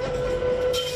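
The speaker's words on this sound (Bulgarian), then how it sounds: "Особено старите трамваи." An old city tram passes close by with a loud rumble and a steady high wheel squeal, ending in a brief hiss, with no talk.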